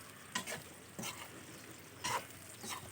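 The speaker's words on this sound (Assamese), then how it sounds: "তাৰপিছত অলপ লৰাই ভাজি ল'ম, যেতিয়ালৈকে অলপ আঠা ভাৱ এটা আহিব বগৰীৰ, তেতিয়ালৈকে ভাজি ল'ম বগৰীকেইটা ধুনীয়াকৈ।" Jujube fruits are stir-fried in a pan for a sweet pickle over a gas flame. A steady sizzle runs throughout, with a few louder scraping stirs about once a second.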